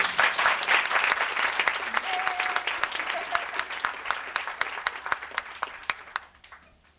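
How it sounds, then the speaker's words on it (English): A business meeting audience claps for team members qualifying for the world team, loud, dense applause that gradually thins into scattered individual claps and fades out. "If we could all give them a hand."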